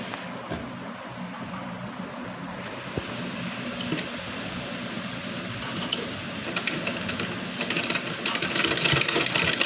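A sewing machine runs steadily, stitching a golden border onto a round-neck blouse with a continuous mechanical whir and rapid needle ticking, close and uninterrupted throughout.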